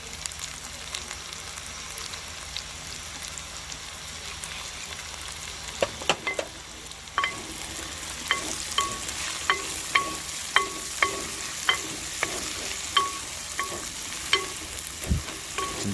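Tender tamarind leaves fry in a pan with a steady sizzle, joined midway by a run of regular scraping, tapping stirs that repeat roughly every half second, close and clear with no talk.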